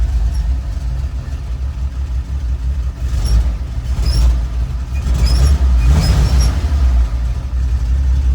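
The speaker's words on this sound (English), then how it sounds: "I'm gonna give it a little bit of gas to let you hear it" A 1953 Chevrolet 3100 half-ton five-window pickup's engine idles with a deep rumble, then swells as the throttle is blipped, loud and close, its low growl rising briefly before settling.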